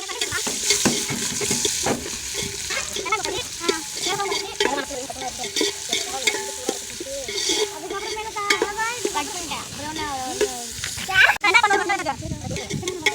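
Ghee-laced egg biryani being stirred and fried in a pot, a steady sizzle with repeated spoon scrapes, while several people talk over the cooking.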